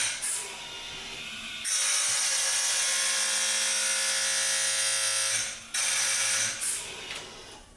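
A chainsaw chain is sharpened with a loud, steady, whining grind that holds for about four seconds, then cuts out and briefly restarts, with short mechanical rattles around it.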